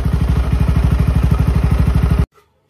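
A motorcycle engine with a TZM Project Racing exhaust on an automatic scooter revving hard, loud rapid pulsing throb close by, cutting off abruptly near the end.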